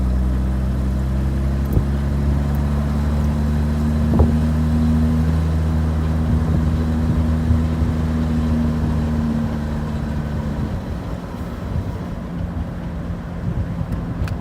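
A Jaguar E-Type with power steering and a choke pulls away and drives on, its engine a steady, loud low hum with even tones that shift and roughen near the end. No voices are heard.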